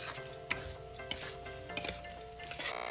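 Cooked taro leaves with coconut, mustard and poppy seed stirred in a pan, with a few distinct metallic clinks and scrapes of a spoon against the pan over a low background hum.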